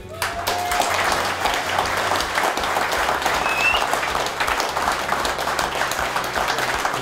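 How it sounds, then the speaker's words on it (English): An audience at a fishing competition's prize-giving evening in Sweden claps in sustained, dense applause. It holds steady for several seconds with a few faint voices mixed into the crowd. "Give them a big applause from"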